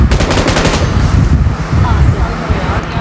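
Loud, rapid automatic gunfire from the battle royale game PUBG Mobile, heard as continuous bursts of shots close up.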